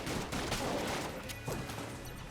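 Rapid, continuous gunfire from Platinum Bullets in the video game Enter the Gungeon, a dense, unbroken fusillade of shots that stays loud and steady throughout.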